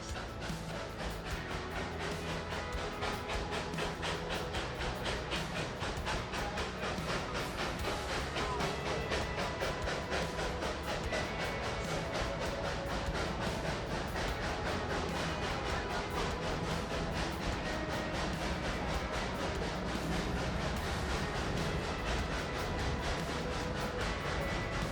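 Durango and Silverton narrow gauge railroad train riding the rails, a steady dense rumble and rattle from inside the car with faint rhythmic clicking, continuous and fairly loud throughout.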